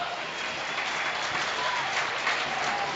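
Stadium crowd at a Belgian Jupiler Pro League football match, Mons against Roulers, applauding a substituted player late in the game: dense, sustained clapping from a large distant crowd, steady throughout.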